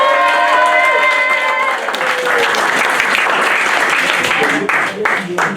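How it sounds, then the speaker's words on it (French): Loud, close applause from a crowd for a diploma recipient at a public presentation, starting under a few overlapping voices and then swelling into dense sustained clapping. "je vais remettre maintenant le diplôme à Fatila et on l'applaudit très fort"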